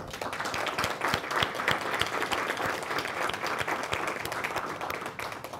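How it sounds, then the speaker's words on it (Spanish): Strong applause for an author at a book presentation on the best interests of the child, with sharp individual claps standing out over a steady crowd clapping for several seconds. "a quien les pido un fuerte aplauso"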